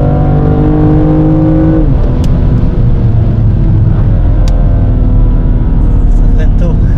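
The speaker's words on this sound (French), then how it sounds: "On va découvrir le circuit de Fontenay-le-Comte en BMW M2 Heritage." BMW M2 Heritage driving on the Fontenay-le-Comte race circuit, loud in-cabin engine drone with shifting gear pitch and road rumble throughout, with people talking over it.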